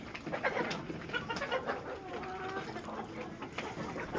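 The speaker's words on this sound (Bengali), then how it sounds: "সাতান্ন পিস মুরগি আছে" Laying hens and roosters in a poultry shed cluck and call repeatedly at close range, overlapping chatter of the flock with a softer coo-like call in the middle.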